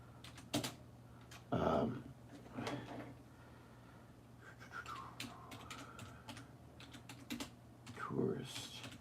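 Typing on a computer keyboard: quiet, scattered key clicks in short bursts with pauses, mixed with a few louder knocks and faint background voices.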